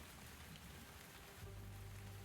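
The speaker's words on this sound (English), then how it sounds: "so it's raining" Steady rain pours in a video game, a dense continuous hiss of drops spread across a wide range, with a low hum joining partway through and no voices.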